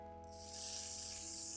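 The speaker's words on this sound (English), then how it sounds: "I'm going in with the Got2b glued blasting freeze spray, and I'm just gonna spray that directly on top" An aerosol spray hisses in a continuous burst lasting about a second, close and fairly quiet, over a faint steady hum.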